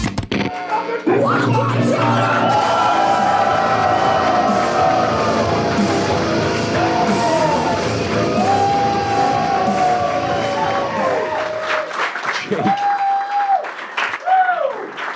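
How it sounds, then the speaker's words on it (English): A live podcast audience cheers and applauds loudly and steadily, with whoops and shouted voices ringing through the noise before it thins into scattered yells near the end. "Intern Jake getting the crowd worked up into a frenzy."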